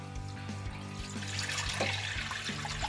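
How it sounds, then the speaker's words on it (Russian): Cold water poured from a tap into a saucepan holding sealed jars of hare stew. A steady, close splashing and running water fills the whole stretch, with faint clinks. "Теперь в эту кастрюлю мы наливаем воды."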